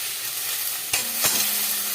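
Garlic and turmeric fry in a pan with a steady close sizzle, broken by a couple of short stirring knocks near the middle, no voices.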